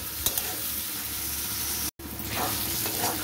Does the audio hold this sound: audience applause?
no